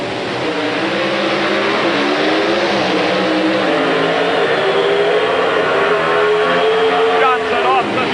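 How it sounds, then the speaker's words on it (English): Loud, sustained drone of an NHRA Pro Stock drag racing car engine at a 1992 final round, its revs building steadily and rising in pitch before cutting off near the end, with crowd and track noise mixed in. "The RPM's beginning to build on the engine."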